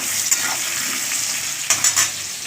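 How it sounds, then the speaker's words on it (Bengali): Pumpkin and eggplant fry in a pan with a constant sizzling hiss and clattering stirring strokes, one near the start and a cluster toward the end, heard close without speech. "এইভাবে আমি কুমড়ো বেগুন আমি ভেজে নেব"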